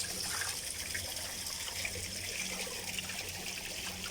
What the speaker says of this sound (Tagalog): Ganda ng waterfalls dito.